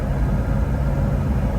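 A Hummer H1 with a 6.5 turbo-diesel drives along a road, its engine giving a steady low rumble mixed with road noise from inside the cab.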